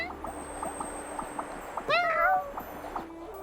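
A cat meows once from a kitty box in the Genshin Impact video game, a short rising mew near the middle over quiet game background sounds.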